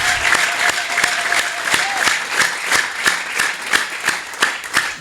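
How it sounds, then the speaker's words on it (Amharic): A church congregation at an Ethiopian worship and healing service applauds for Jesus: dense, steady clapping from many hands, loud and close, lasting throughout. "አጨብጭቡ ለኢየሱስ።"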